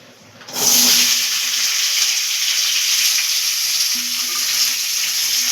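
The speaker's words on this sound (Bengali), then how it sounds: "সব সবজি একটু ভেজে নিতে হবে" Peas, carrot and tomato hit a hot wok and start frying at once, a loud, dense, steady sizzle that holds without a break to the end.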